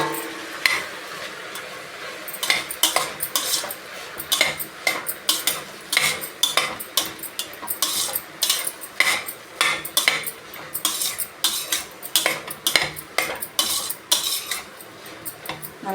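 Three chopped tomatoes cooking down in a pan for chapati gravy, a utensil clinking and scraping against the metal in quick, repeated strokes over a soft background sizzle, close and fairly loud, with no talking.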